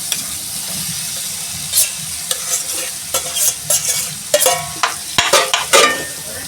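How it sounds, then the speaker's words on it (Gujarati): Boiled potatoes are stirred into a sizzling green masala of crushed coriander and chillies for samosa filling, with repeated close spoon scrapes and clacks in an irregular rhythm over a steady fry. "હવે આપણે બટેકા એડ કરી દઈશું"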